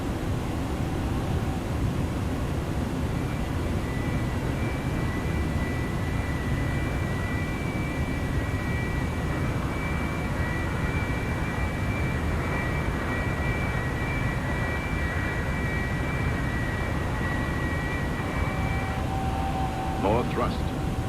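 Airbus A310-300 engines at raised thrust in a flight simulator on a Toronto to Bridgetown route, a constant loud jet roar with a thin steady whine above it and a voice speaking over the noise.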